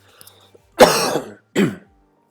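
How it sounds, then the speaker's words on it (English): A person coughs loudly and close up, one harsh throaty burst followed by a shorter second cough, with silence on either side. "Sorry for the coughing."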